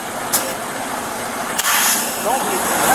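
A semi-truck engine runs in the background, a steady low rumble with a couple of sharp bursts, while people talk over it.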